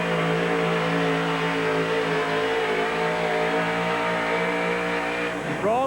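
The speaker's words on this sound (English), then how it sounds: "here's One Trick Pony now, 1980 GMC. 620 cubic inches of aluminum Rodak." A 1980 GMC pulling truck with a 620-cubic-inch aluminum Rodak engine roars at a truck pull, a loud, steady high-revving drone that holds throughout and shifts in pitch near the end.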